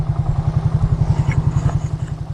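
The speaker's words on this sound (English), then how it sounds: "while I wait for that tractor to warm up" A farm tractor engine idles while warming up, a steady throbbing low rumble with a fast even pulse, close and continuous throughout.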